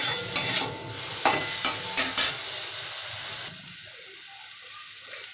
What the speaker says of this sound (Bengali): চিংড়ি মাছটা কিন্তু হালকা করে ভাজতে হবে